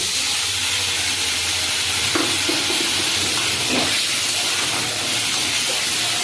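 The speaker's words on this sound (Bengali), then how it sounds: "এবার আমি ভালো করে এটা কষাবো বন্ধুরা" Potatoes with salt and a splash of water are stir-fried in a pan for a rohu fish head curry: a loud, continuous close sizzle and hiss, broken by a few short spatula scrapes.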